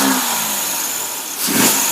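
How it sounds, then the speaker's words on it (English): A Jeep CJ7 with a 258 replaced by a swapped Chevy TBI engine runs without a MAP or O2 sensor in limp mode, a loud steady engine drone close by that swells into a brief rev near the end. "Look at it run with no map sensor or O2 sensor."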